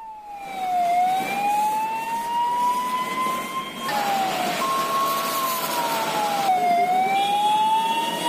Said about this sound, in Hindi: लगातार फायर ब्रिगेड की गाड़ियों के आने का सिलसिला यहां पर जारी है।